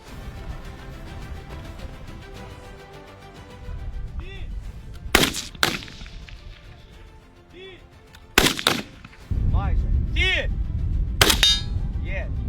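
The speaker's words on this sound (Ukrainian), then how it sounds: "Наступні два магазини вже ми стріляємо на оцінку." Several loud gunshots crack out at irregular intervals at a military firing range, each followed by ringing metallic clangs, amid the low hum of the outdoor range.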